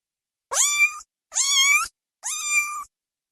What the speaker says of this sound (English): Every time you say something, I'm going to add a cat noise at the end.